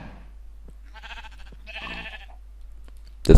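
Sheep in the Minecraft survival game bleat in a few short, wavering calls at moderate level, followed by a sudden loud burst of noise at the end; no talking.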